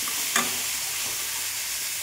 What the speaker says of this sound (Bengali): এর মধ্যে আমি দিয়ে দিলাম ম্যারিনেট করে রাখা চিকেনগুলো।